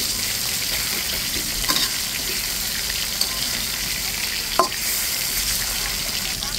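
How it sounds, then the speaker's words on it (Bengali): Fresh river fish, a small carp, frying in hot oil in a pan, a steady close hiss and sizzle with a few faint clinks and bubbling pops, no talking. "দুই পাশ উল্টে পাল্টে ভেজে নিয়েছি, এখন নামিয়ে নিচ্ছি।"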